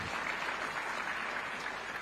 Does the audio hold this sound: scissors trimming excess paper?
no